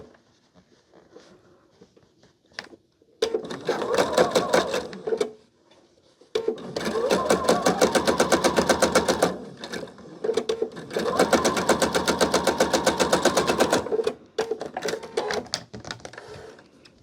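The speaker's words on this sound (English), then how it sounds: "line up your fabrics there on the edge. And then stitch straight down." A sewing machine stitches straight seams through quilt fabric for a five-patch block, running in three loud, steady bursts of rapid needle clatter separated by short pauses with light handling noise.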